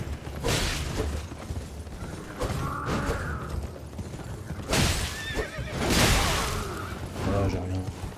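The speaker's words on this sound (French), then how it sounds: "Je savais que son cheval il allait ruer." In the video game Elden Ring, a horse whinnies loudly and rears several times, with clip-clopping hooves, creaking gear and other game sounds mixed in.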